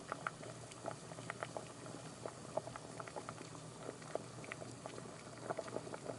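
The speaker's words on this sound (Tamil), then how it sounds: "இப்போ சலசலப்பு அடங்கினதுக்கு முன்னாடி முறுக்கை வந்து திருப்பி விட்டுக்கலாம்." Mullu murukku frying in hot oil, a busy crackling and bubbling patter with scattered sharp pops, fairly close and steady, with no talking.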